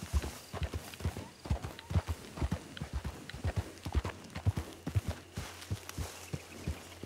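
Horse hooves clip-clop in a steady walking rhythm in the Western roleplay video game Dead West RP, a string of sharp, fairly close thuds that carry on for several seconds.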